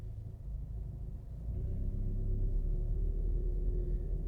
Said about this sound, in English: We're not going to hold up the video for that traffic here.